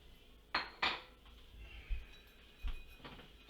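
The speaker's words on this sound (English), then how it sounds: "Stir the fillings around to make sure the egg is in proper contact with the pan." Utensil scraping and clinking in a pan as frittata fillings of onion, tomato and ham are stirred into egg beaten with cream, a few distinct knocks against a quiet kitchen background.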